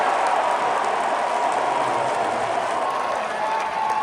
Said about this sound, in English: Listen to the crowd, man.